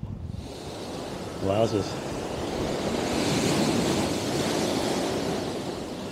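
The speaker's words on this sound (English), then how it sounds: "It's a little bit choppy out there today." Choppy sea surf rolls in at Blackpool on a windy day, a loud, continuous rushing wash mixed with wind buffeting the microphone, while a man briefly exclaims over it.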